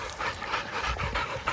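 Hunting dogs pant hard and rapidly up close after catching a young wild boar, quick rhythmic breaths from more than one dog with no talking.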